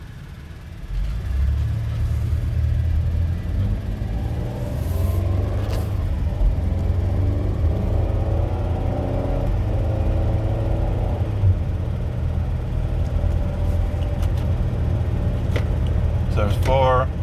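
A 2010 Chrysler Town & Country minivan with a 3.8L V6 accelerates steadily through its gears, giving a moderate engine drone that rises and settles with each shift, heard from inside the cabin.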